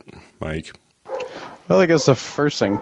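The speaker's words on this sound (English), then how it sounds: "pardon the dogs, my kids are just getting home" Dogs bark in a household as children arrive home, short bursts near and moderately loud, mixed in with someone talking.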